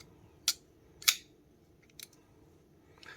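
A few quick, crisp metallic clicks as a Miguron Moyarl folding knife with 14C28N steel is flicked open, two sharper snaps followed by softer ones, close up over quiet room noise.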